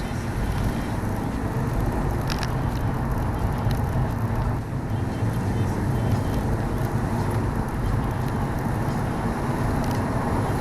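A Volkswagen Golf Cabriolet engine accelerating flat out in second gear, a steady loud drone of engine and road noise filling the cabin throughout, with a voice talking over it.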